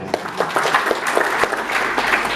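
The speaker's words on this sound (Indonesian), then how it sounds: "Tepuk tangan untuk beliau." An audience at an education dialogue forum in Semarang breaks into loud, dense applause for a speaker, many hands clapping steadily and close for a couple of seconds with a faint murmur of voices underneath.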